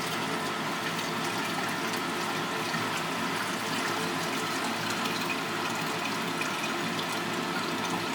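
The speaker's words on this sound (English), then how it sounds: "I'm going to pour this off into this flask here now" Hydrochloric acid solution from gold refining pours steadily into a flask, a continuous close liquid rush and trickle at an even level throughout.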